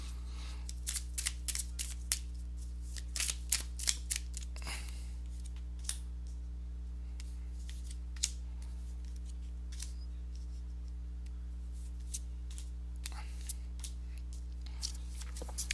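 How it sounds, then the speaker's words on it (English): Tarot cards riffle and flick in quick, crisp bursts, repeated over and over at close range in an otherwise quiet room, with a low steady hum underneath. "let me go ahead and give these cards a shuffle"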